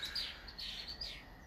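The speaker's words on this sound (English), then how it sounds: "Hear the birds chirping." Birds chirp outdoors by a lake at a lakefront home in Kalamazoo, Michigan, a few faint, quick high tweets over quiet background air with no talking.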